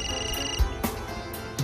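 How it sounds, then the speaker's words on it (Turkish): A telephone rings in a Turkish household while a call is placed, a bright electronic ringtone pattern with repeated tones, moderately loud and alone with no talking over it. "Bir günde bir kere de açsan şu telefonu Ali."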